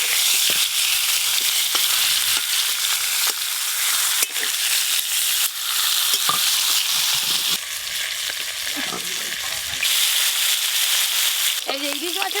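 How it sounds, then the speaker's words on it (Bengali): Hilsa fish heads fry in a pan of oil, giving a loud, continuous crackling sizzle with sharp spatters that carries on without pause. "ওই তেলে ইলিশ মাছের মাথাগুলোও ভেজে নেব"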